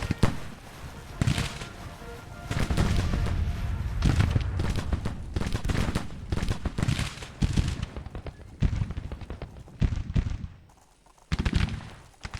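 Ragged musket volleys from an infantry brigade in the Grand Tactician: The Civil War strategy game, a dense crackling fusillade of many overlapping shots, loud and sustained with brief lulls near the end.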